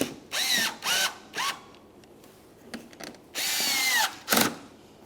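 A power drill snugs up the bolts on a front bumper cover of a 2011-2020 Toyota Sienna, running in several short bursts that rise in pitch, with a longer spin near the end and small clicks between bursts.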